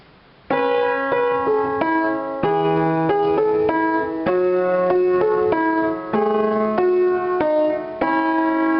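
A melody played with both hands on a bright, keyboard-like instrument, a repeating four-note accompaniment under a steady line of clear, evenly paced notes.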